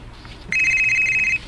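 A cellphone rings with a loud, electronic ringtone that starts suddenly after a quiet, low room background and holds a steady repeating tone for just under a second before cutting off.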